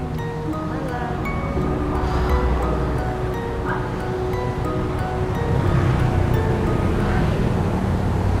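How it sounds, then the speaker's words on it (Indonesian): Roadside traffic at night, with cars and motorbikes passing on a street. It comes through as a constant loud rumble with wind buffeting the microphone, rising toward the end, and faint voices sit beneath it. "Suara agak sedikit mengganggu ya, banyak mobil, motor."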